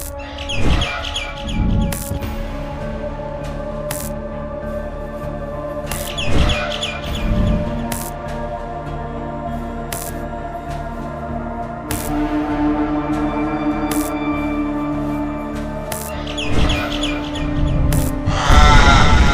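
Chirping calls from a bird in the Garten of Banban 6 game, repeated in short, clear bursts over a steady tonal backdrop, with periodic sharp thumps and no talking.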